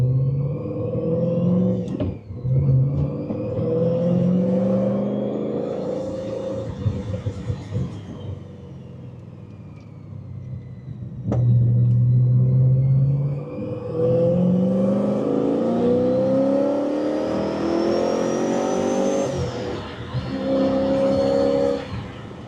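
A car with a Rotrex supercharger accelerating hard through several gears, the engine pitch rising in long sweeps, cutting off sharply at each shift and climbing again, loud and close with a whining supercharger above the engine note.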